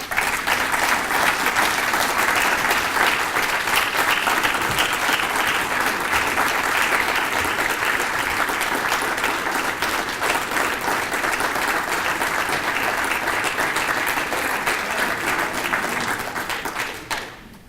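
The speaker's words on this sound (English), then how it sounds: "Tim, do you mind if we use your extra applause for Earl?" Sustained loud applause from an audience at an award ceremony, a dense steady wash of clapping lasting many seconds before fading out abruptly at the end.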